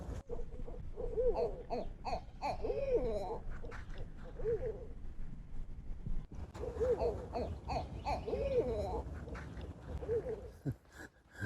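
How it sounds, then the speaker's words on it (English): Two owls hoot back and forth at a Florida campsite in winter, a series of low, rhythmic calls at moderate distance, with quiet voices nearby. "to hear that and not know what it is, and then to see that it was 2 owls"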